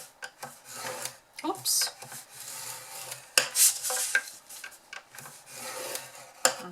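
Scoring tool rasping along cardstock for a nesting box base, scoring all sides: a series of short scraping strokes with brief pauses, close and fairly soft, with a quick spoken word partway through.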